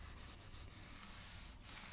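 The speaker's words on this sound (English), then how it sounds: "Hit your board with the 220 sandpaper" A board is sanded by hand with 220-grit sandpaper, producing a steady, close-up scratchy rubbing with a few rhythmic strokes and no talking.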